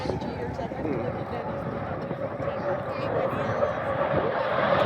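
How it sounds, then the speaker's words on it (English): A jet aircraft roars past in a high-speed pass at the Midland, Texas air show, a loud sustained whoosh that builds steadily toward the end as the plane closes in. "we're going to see him one more time from show left in a high-speed pass."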